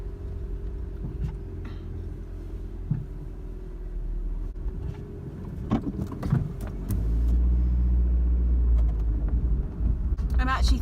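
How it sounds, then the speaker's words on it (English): A car engine hums and rumbles from inside the cabin during a short drive to the shops, with a louder surge of road noise toward the end and small interior clicks and rattles along the way. "So let's do a little cheeky drive with me."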